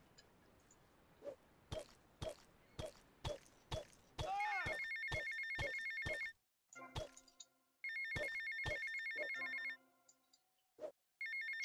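Within a Grand Theft Auto: Vice City mission, a phone rings in repeated bright electronic trills broken by short pauses, alongside a steady series of sharp ticking clicks, fairly faint with no voices.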